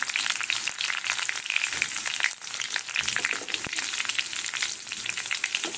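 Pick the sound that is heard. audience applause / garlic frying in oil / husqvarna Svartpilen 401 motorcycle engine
garlic frying in oil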